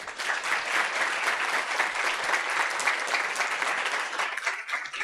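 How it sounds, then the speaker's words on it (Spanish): Applause from a seated audience at a veterinary talk, a steady wash of many hands clapping that stays even and moderately loud, tapering slightly at the end. "Bueno, pues otro aplauso para Adelfa."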